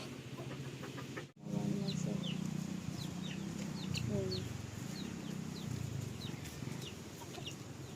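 Chickens cluck outside a house where a hen laid an egg, low repeated clucks and murmuring calls close by over a constant background hiss, with chirps of other birds and one brief dropout near the start.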